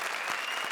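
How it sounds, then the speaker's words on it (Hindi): Enthusiastic applause from a television comedy-show studio audience after a dance performance, a dense, steady wash of clapping filling the short moment, fairly loud and close. "जोरदार तालियां हमारे पूरन्स के लिए।"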